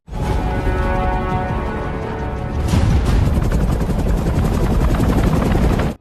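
Two helicopters carrying a rapid reaction team's boats fly overhead in a dense, continuous rotor roar that swells louder about halfway through and holds steady to the end.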